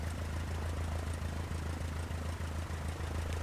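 Aircraft engines in Microsoft Flight Simulator 2024, heard from outside the plane as a steady, continuous low drone and hum that stays fairly quiet and even throughout.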